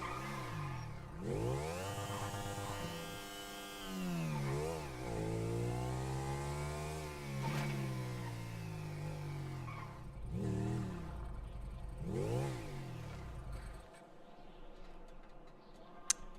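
Motorcycle in GTA roleplay revving repeatedly, its engine pitch sweeping up and down in long whining arcs over a steady buzzing drone, loud and close, easing off near the end with a small click.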